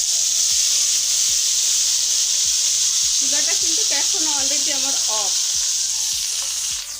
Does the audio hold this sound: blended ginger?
yes